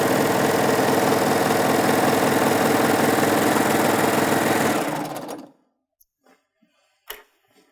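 A sewing machine runs hard and steady while stitching the binding on a drawstring backpack, a loud continuous motor drone that cuts off near the end, leaving near silence and a few small clicks and handling sounds.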